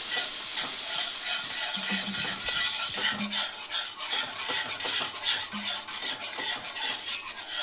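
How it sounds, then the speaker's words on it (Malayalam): Milk being stirred into a thick sauce for loaded fries, with a steady wet scraping of a spoon around a pan and light sizzling underneath, plus a few soft clinks of utensil on metal. "ഇനി നമ്മൾ അതിലേക്ക് കുറച്ച് പാൽ ആഡ് ചെയ്ത് കൊടുക്കുകയാണ് നന്നായിട്ട് ഇളക്കി കൊടുക്കണം"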